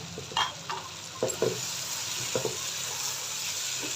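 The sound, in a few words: capsicum added and frying with potatoes and tomatoes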